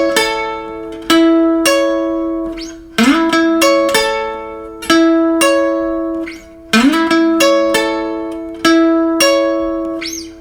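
Slide guitar plays the intro of a Delta blues song, with bright plucked notes and sliding pitches in a steady rhythm, close and loud, no voices.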